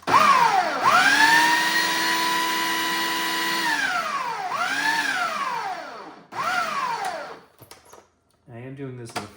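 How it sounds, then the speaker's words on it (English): A food processor pulses pineapple and mango into salsa, with several loud bursts of whirring motor that spin up, run, and wind down between pulses, followed by short choppy blade sounds. "I am doing this in a food processor, not the blender."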